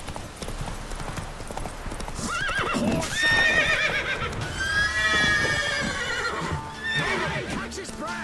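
Roach, the horse in The Witcher video game, gallops with close, rapid hoofbeats and lets out a loud, drawn-out whinny partway through, over a continuous game soundscape.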